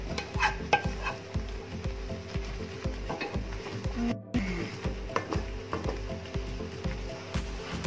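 Thickened pineapple jam with cinnamon and cloves is stirred in a pan, a spatula scraping and knocking in a steady repeated rhythm over a soft sizzle, close and fairly quiet.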